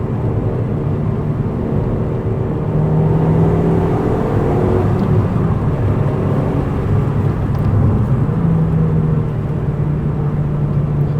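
A 2005 Audi TT Quattro Sport engine heard from inside while driving, a steady loud hum with gently rising and falling pitch as the car cruises, no talk over it.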